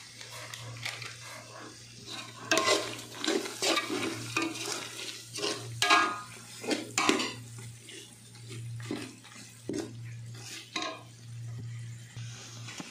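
Beef nihari cooking in a pot as its special spice masala is stirred into the fried meat, giving repeated scraping stirs over a steady sizzle, close and moderately loud with no talking.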